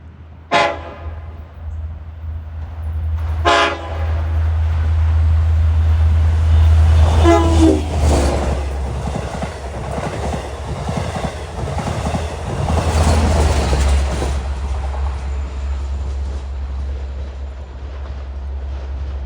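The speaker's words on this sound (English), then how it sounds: "Westbound approaching is 6009 from Southampton to Jamaica." Westbound Long Island Rail Road train 6009 on the Montauk Branch, bound from Southampton to Jamaica, sounds two loud horn blasts and then rumbles steadily past nearby for a long stretch.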